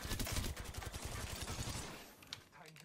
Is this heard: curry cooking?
no